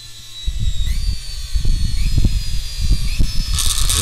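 A 400-watt washing machine motor runs after being switched on, with a whirring tone and pulsing, uneven thumps, close and fairly loud, a brief high buzz near the end.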